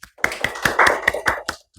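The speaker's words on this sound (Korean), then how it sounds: "자, 박수." A classroom of students claps, a quick run of sharp, close hand claps in an uneven rhythm lasting under two seconds.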